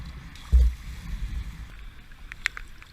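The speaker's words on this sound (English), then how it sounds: "Kayaking under the highway." A kayak paddles along a creek beneath a highway, with a thump and splash as a paddle stroke hits the water, then faint drips and light wind noise. No one speaks.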